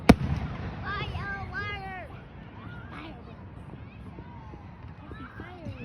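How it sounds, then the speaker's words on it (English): Fireworks go off outdoors with one sharp bang at the start, followed by fainter scattered pops and crackles under people talking. "Fireworks."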